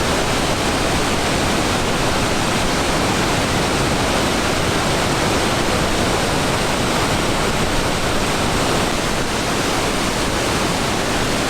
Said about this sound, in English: At the moment, the flow of the Orange River is particularly strong